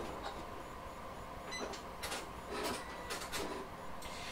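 Janome Memory Craft 9850 sewing machine stitching fabric while it is curved and fed along, a steady low mechanical whir with brief clacking bursts, moderately near, no talking.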